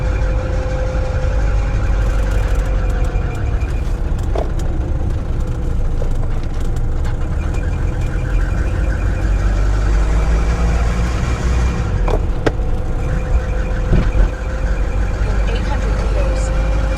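A Mercedes W115 car cruises through France, its engine a steady mid-pitched drone with road and wind rumble inside the cabin, continuous and loud for the whole stretch, with a brief bump near the end.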